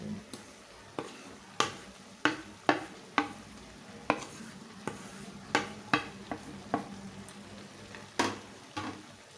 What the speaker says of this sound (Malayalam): ഒന്ന് ഇളക്കി എല്ലായിടത്തേക്ക് എത്തിച്ചു കൊടുക്കണം